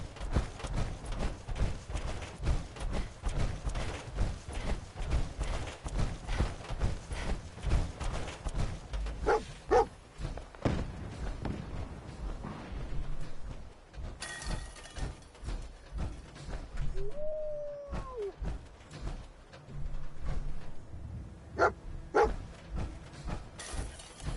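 In a Fallout video game, a dog barks and yips intermittently across about twenty-four seconds, mixed with rhythmic clattering steps and occasional higher whines, at moderate loudness with no talking.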